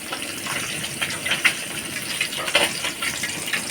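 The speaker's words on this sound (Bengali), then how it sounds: "এখন আমি তেলটা দিয়ে দিচ্ছি।" Cooking oil poured into a pot set on the stove for a mixed vegetable curry gives a short, close, splashy trickle with small liquid ticks and gurgles.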